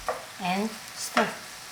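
Zucchini and tiny shrimp being stir-fried in a pan, with a few short scraping stirs and a soft sizzle, close and fairly quiet, alone without talk.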